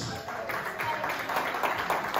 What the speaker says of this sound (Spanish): que se escuchen fuerte los aplausos